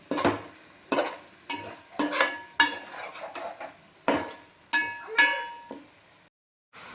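Tamarind juice poured into a pan of fish curry, heard as repeated stirring scrapes of a utensil against the pan with a light sizzle underneath, several strokes in a loose rhythm, fairly close, with no talking.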